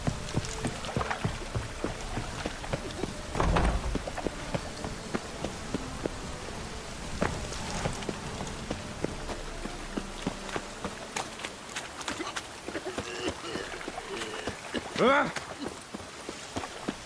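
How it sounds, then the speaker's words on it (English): Rain falls steadily in The Witcher 3 video game as a continuous hiss with dense pattering drops on surfaces, joined by occasional thuds, footsteps and brief voices over the downpour. "Rain again."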